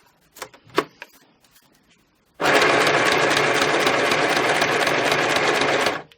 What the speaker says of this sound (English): I'm adding some vertical running stitch for variety.